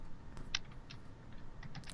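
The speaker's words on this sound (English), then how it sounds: "What are you typing?" Computer keyboard typing in a quiet room: a few scattered, light key clicks, close by and faint.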